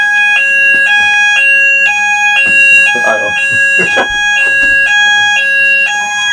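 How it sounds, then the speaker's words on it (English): A fire alarm sounds inside an underground shooting range, a loud two-tone electronic warble that alternates steadily and continuously, with a short spoken remark and some bursts of clatter and activity under it. "we set the fire alarm off"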